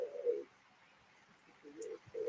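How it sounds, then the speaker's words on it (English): Pigeons coo outdoors in low, throaty bursts: one at the start, then two more near the end, separated by a quiet gap with faint background noise and no talking. "Hear the pigeons?"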